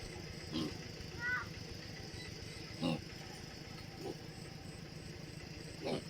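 A tractor engine runs steadily in a rice field, a low, even mechanical drone with a few brief louder bursts rising over it.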